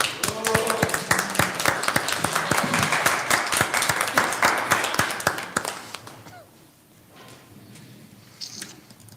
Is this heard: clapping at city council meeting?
yes